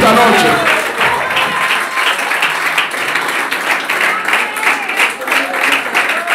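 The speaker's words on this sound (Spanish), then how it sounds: "Suelta ese aplauso al Señor fuerte esta noche" A church congregation claps loudly during an evening service, a dense, pulsing burst of applause with voices calling out over it, close and continuous.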